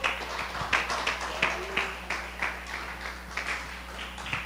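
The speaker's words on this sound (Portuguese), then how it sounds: "Desse uma salva de palmas ao Senhor." A church congregation claps for God in a rhythmic, moderately loud beat of roughly two claps a second over a low steady hum, with voices faintly underneath.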